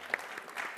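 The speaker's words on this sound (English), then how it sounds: "You keep clapping everything I say." Brief, light clapping from a live audience at a talk, a short patter rising and fading within under a second, fairly faint and without voices.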